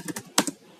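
Python code being typed on a computer keyboard: a handful of quick, close keystrokes clicking in a short, uneven burst.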